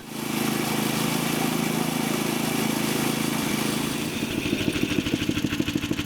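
A gas-powered mechanical 1-inch scale locomotive with mild steel wheels runs on rails, giving a steady buzzing small-engine drone that turns into a faster, pulsing clatter near the end.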